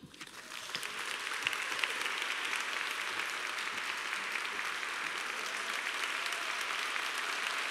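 Sustained audience applause for actress Liv Ullmann at a Women's Refugee Commission awards event, building quickly and holding steady and dense throughout, with no voices above it.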